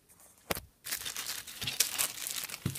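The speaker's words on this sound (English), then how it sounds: "Comes in this wrapping plastic bag. So just pull that out." Plastic wrapping bag pulled out of a box holding a massage stick, giving sharp close crinkles and rustles in several quick bursts after a brief quiet start.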